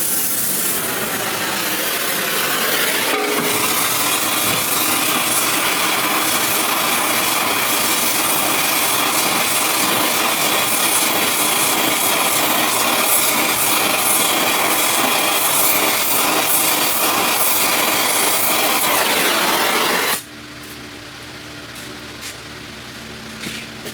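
A torch roars steadily while heating a seized rear lower suspension control arm bolt on a 2015 Nissan Altima, a loud continuous hissing blast that cuts off abruptly near the end, leaving quieter shop ambience.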